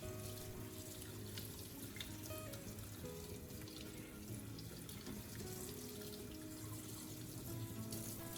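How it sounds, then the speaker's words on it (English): Tap water runs steadily over garlic peels being rinsed in a sink, a soft continuous hiss and splash at low volume with no speech. "rinse a few times under running water to make sure everything is clean"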